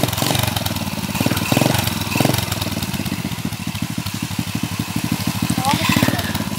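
ProTork TR100F mini motorcycle engine running nearby in neutral, a loud, rapid, steady putter that swells slightly at times.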